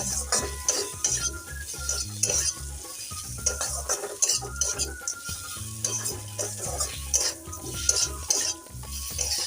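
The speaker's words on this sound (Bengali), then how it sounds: "ভেজে রাখা পোস্ত অল্প করে আমি দিয়ে দিচ্ছি দিয়ে বেশ ভালো করে ভাজবো" Fried poppy seeds stirred into bitter gourd in a pan, an irregular run of spatula scrapes and knocks over a soft sizzle, close and moderately loud, without speech.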